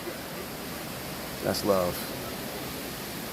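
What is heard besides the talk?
Temesi waterfall roaring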